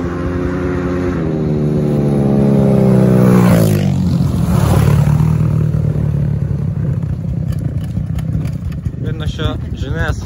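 KOVI and GNS 300 pit bike motorcycles race on a dirt track, engines revving loud and close, then pulling away and fading into a rough, buzzing drone, with voices talking over them.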